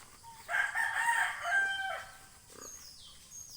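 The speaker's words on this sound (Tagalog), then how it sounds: "Rhode Island. Rhode Island na manok." A Rhode Island Red chicken crows once, loud and close, a drawn-out call that trails off, followed by softer clucking.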